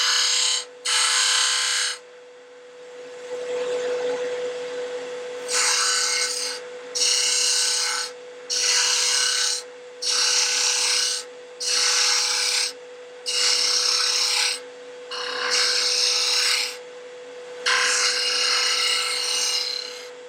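Lathe turning tool cutting a wooden bottle stopper, giving repeated loud scraping, hissing bursts of about a second each, separated by short pauses, over a steady motor hum.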